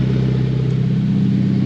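A car engine runs through a brand-new exhaust with a cutout inside a closed garage, giving a loud, steady, deep rumble close by with no voices.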